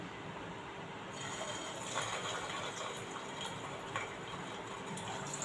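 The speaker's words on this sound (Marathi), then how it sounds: "मी आधी दोनच टाकणार आहे त्याच्यामध्ये आणि दोनच फ्राय करून घेणार आहे" Two potato bread rolls fry in hot oil in a kadhai over a medium gas flame, giving a steady, even crackling sizzle that runs the whole time with no voices.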